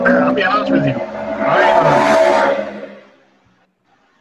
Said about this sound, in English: It was a very loud motorcycle.